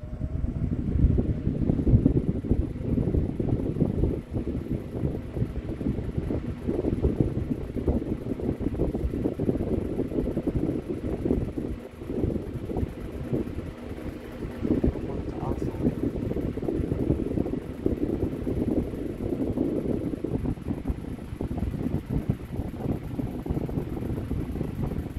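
Westinghouse 12 inch AT12-1 oscillating desk fan running, a steady broadband whoosh with a low hum that holds at an even level throughout and shifts slightly as the head sweeps, with speech faintly present.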